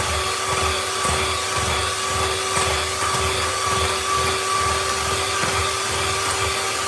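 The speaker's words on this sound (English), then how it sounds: "Right, 2 minutes of whisking again. Until it's nice and fluffy." An electric mixer whisks cookie batter with a steady, droning motor whine and faint rhythmic beater rattle, close by and uninterrupted.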